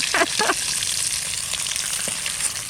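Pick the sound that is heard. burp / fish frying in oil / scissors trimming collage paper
fish frying in oil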